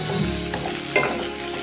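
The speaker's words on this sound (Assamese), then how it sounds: "মই এতিয়া ভালদৰে লৰাই দিম" Mixed vegetables for fried rice sizzle steadily in a hot pan while being stirred, a continuous close frying hiss with a brief scrape of the utensil partway through.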